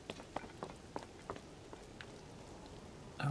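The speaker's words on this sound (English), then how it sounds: "It's raining all of a sudden." Rain falls in an open-world video game as a faint, steady patter with scattered droplet ticks and light footsteps.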